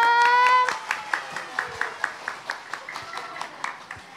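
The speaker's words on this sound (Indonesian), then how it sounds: "Tepuk tangan dong." Clapping at a children's Easter church service, a short run of rhythmic, evenly spaced hand claps from a small group, starting just after a voice and keeping a steady beat.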